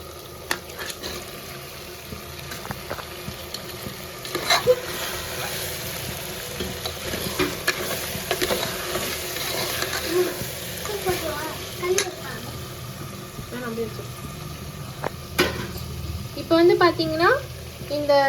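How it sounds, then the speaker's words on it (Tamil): Chicken and tomato pieces sauté for a chicken kurma in a pan, giving a steady close sizzle of frying broken by scraping stirs, with a few louder clinks and stirring noises near the end. "சிக்கனு அப்புறம் அந்த தக்காளி எல்லாம் சேர்ந்து வதங்கும்"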